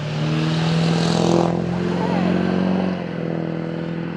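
A car with a loud exhaust and no muffler roars past close by, a deep rumbling engine note that swells and then fades, while a voice talks over it.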